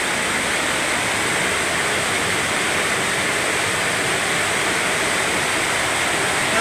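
Heavy rain pouring at night in Dasmariñas, Cavite, a dense steady roar of falling water with no breaks, loud and close throughout.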